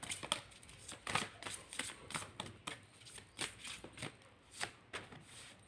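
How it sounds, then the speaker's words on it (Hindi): Tarot cards are drawn and shuffled close by in a steady run of crisp flicks and riffles, about two per second, with no talk. "पहले मैं कार्ड निकाल लूँ फिर बताती हूँ आपको बात।"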